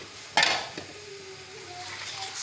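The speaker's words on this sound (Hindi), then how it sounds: "2 मिनट के लिए मसालों को अच्छी तरह भूनेंगे" Spices and green chilies frying in a pan, a steady soft sizzle opened by one sharp spoon clank and scrape against the metal, followed by quieter stirring.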